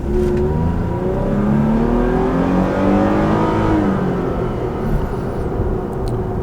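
Car engine with its stock air intake, revved steadily under load while driving with the windows closed, a constant loud drone rising and falling in pitch for the whole stretch.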